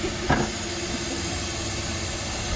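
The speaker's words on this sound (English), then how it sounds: "steam cleaning the motor." Steady hiss of a steam cleaner working over the engine bay of a 1970 Dodge Challenger R/T 440 Six Pack, a continuous broadband rush at moderate level with a brief knock near the start.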